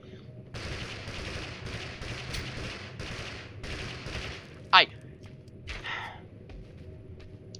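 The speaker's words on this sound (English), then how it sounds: "It sounds like the crossbow pistol, maybe." Crossbow pistol fire in the battle-royale game TABG: a long run of rapid, closely spaced shots, then a single sharp crack stands out loudly, followed by a shorter burst of impacts.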